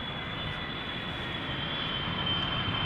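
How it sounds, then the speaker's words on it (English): Singapore Airlines Boeing 747 on approach to Schiphol Airport, a steady broad jet engine roar that holds at a constant, fairly loud level throughout, swelling slightly near the end. "Oh, that's the Singapore 747."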